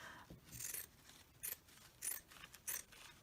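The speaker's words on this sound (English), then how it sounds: "I think what I'm going to do is I'm going to cut some of it off" Scissors snipping through scrap fabric while a pocket purse is made, heard as several short, crisp cuts spaced irregularly, fairly close and quiet with no talking.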